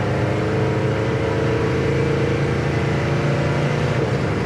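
A 1972 Gran Torino's engine drones steadily from inside the car at highway speed, a continuous loud rumble with a faint shift in pitch as it changes gear.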